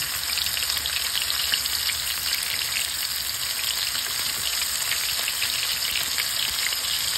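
Calamares deep-fry in oil with a steady, dense crackling sizzle like heavy rain, loud and unbroken from start to finish with no voices.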